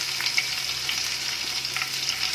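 Green chillies fry in hot oil over a high gas flame for an Indo-Chinese dragon chicken dish, giving a steady, dense sizzle and crackle that stays close and even throughout, with no talking.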